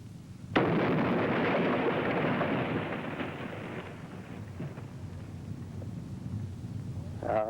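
A shotfiring blast goes off in a 1980s coal mine, a sudden loud boom at once that rolls on as a long, heavy underground rumble slowly fading, with a faint clatter near the end.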